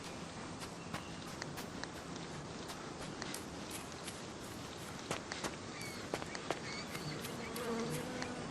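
Bees buzz steadily inside a barn in the Sherlock Holmes Chapter One video game, a dense continuous hum with scattered soft taps and thuds over it and no voices.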